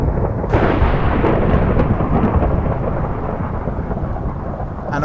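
Steady heavy rain pours throughout a video game storm, with rolling thunder rumbling underneath and no talking, a continuous dense wash of sound.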